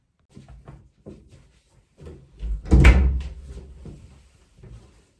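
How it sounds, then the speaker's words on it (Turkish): A door is shut in a home, with a few soft handling knocks and then a louder thud near the middle, followed by quieter clicks and rustles. "Kapıyı da kapattım."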